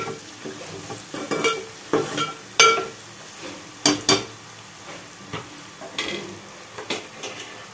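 Turmeric frying in oil in a pan for a black-eyed pea and egg curry, with a steady sizzle under repeated scraping stirs and sharp clinks of a spoon against the pan, close and fairly loud, no talking.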